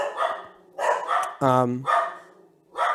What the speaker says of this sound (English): Let me just stop the dogs